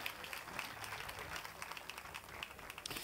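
A club audience at a comedy show applauds softly and steadily for a few seconds, the clapping a little distant and scattered.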